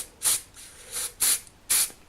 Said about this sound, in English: Spray it from below,